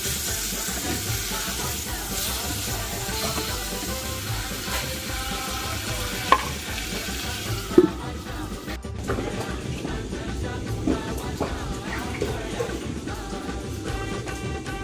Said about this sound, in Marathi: मंद चुलीवरच आपण हे सगळं फ्राय होऊ द्यायचं आहे।